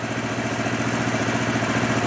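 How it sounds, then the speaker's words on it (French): An AJP PR7 motorcycle engine idling steadily after a long warm-up, a close, continuous low mechanical thrum with even pulsing and no change in revs. "Là, le moteur est allumé depuis 659 secondes."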